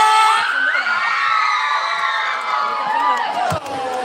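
Live audience at an Indonesian youth talk show cheers, whoops and shouts together, loud and close, with children's high voices in the mix, one sustained swell of noise and a brief dip near the end.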